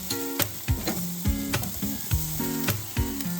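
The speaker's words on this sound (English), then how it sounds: "just use an onion to clean the grill" Onion rubbed on a hot braai grill to clean it, a continuous sizzle broken by sharp scraping strokes in a repeating rhythm, close by.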